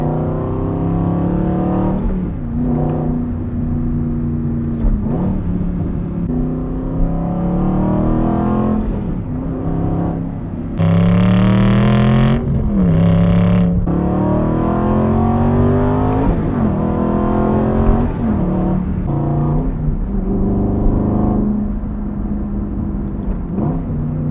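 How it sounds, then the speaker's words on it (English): A loud Aston Martin Vantage GT engine revs and pulls hard while driving, rising and falling through the gears with sharp bursts and crackles, close and sustained for over twenty seconds with no talking. "Such a satisfying noise. I'm just going to let the car do some of the talking for a sec."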